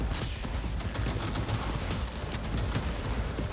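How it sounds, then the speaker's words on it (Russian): Sustained gunfire exchange in Cyberpunk 2077, fighters trading shots with guards, a dense continuous volley of bursts at steady loudness throughout, with no voices. "Они, похоже, перестреливаются против охраны этого."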